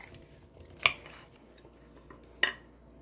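Two sharp clinks of a utensil against a bowl while chicken marinade with garlic is stirred, spaced about a second and a half apart over a quiet background, with no talking.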